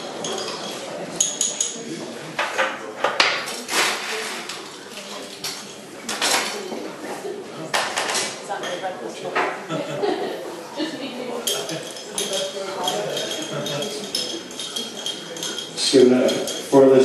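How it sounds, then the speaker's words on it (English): A spoon stirs a rum old-fashioned in a glass to dissolve the sugar, with light clinks and scraping close by under continuous talk and a brief chuckle. "Just giving it a further stir to try and dissolve all the sugar."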